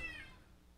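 A cat meows once during a card game session, a short close mewing call that fades out over under a second, heard alone without talk.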